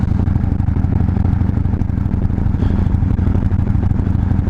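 A motorcycle being ridden gives a steady, loud engine drone with constant wind and road rush, unbroken and without talk.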